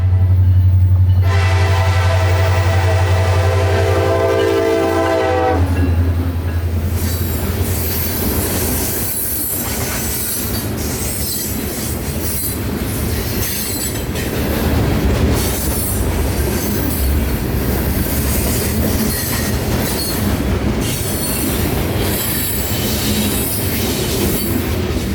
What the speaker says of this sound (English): Wide open throttle and clear track gives 750 the rest of the way to run.